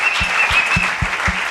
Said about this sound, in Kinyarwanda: Piga makofi kwa Bwana Yesu. komera amashyi umwami Yesu.